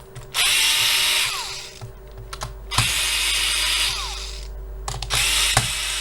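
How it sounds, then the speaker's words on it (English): A power drill loosens screws on a 2011 Protanium BP-L24100ICW e-bike battery pack in three short whirring bursts, each with a rising whine, separated by clicks and handling noises, close and loud. "I'm gonna loosen up the screws a little bit"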